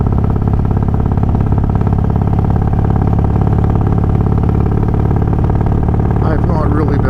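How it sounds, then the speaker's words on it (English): A motorcycle engine fitted with Feuling 525 cams, hydraulic cam chain tensioners and a Dynatek TC88 ignition runs steadily nearby, giving a loud, even, throbbing drone that holds throughout. "As far as feeling any different with these cams, it does seem more willing to accelerate, and it is smoother. Way less engine noise."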